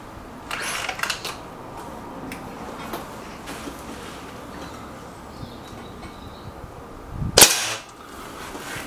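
A Remington Warhawk air rifle fires in a shooting contest, giving a single sharp, loud crack late in the clip against quiet outdoor background noise with a few faint clicks.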